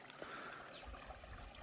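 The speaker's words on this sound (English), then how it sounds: "Just found this cool little spring." A small spring trickles water in the desert, a soft steady babbling and gurgling close by, faint and continuous with light outdoor background.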